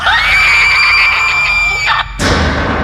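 Mingled woman's and man's scream in a horror story scene, a loud sustained high wail lasting about two seconds, then a sudden harsh burst as it cuts off.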